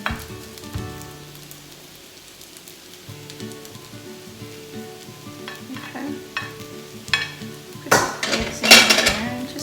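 Eggs tossed with Lao-style fried noodles (kua mee) in a pan: soft frying and stirring that build into loud clattering of a utensil against the pan near the end, close and with no talking.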